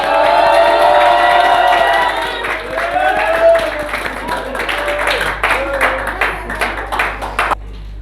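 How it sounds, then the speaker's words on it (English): Students and staff at a school assembly break into applause for a grade 10 student, a loud crowd roar with cheering at first that settles into brisk clapping before cutting off abruptly, with voices mixed in. "Let's welcome him with a big round of applause."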